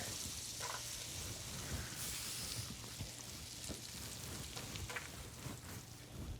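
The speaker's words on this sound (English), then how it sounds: "That's a good little sizzle there. That's how you know your pan is hot enough." Steady, dense crackling hiss of carrots sizzling in a hot pan, continuous and fairly close, with no voices.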